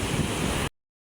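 Big sea waves wash onto the shore in rough weather, heard as a short, close burst of broadband roar that cuts off abruptly after well under a second.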